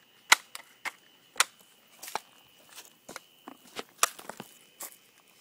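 A BB air gun fires in a series of sharp, dry snaps, about a dozen irregularly spaced shots over several seconds, close and fairly quiet, with no talking.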